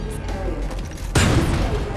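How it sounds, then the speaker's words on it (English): Gunfire in the video game Homefront The Revolution: a loud burst of shots cuts in about halfway through and keeps rattling over a steady in-game background. "Where's this guy shooting at me?"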